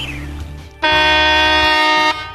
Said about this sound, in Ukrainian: Нічний звук клаксона перервав солодкі мрії Ганни.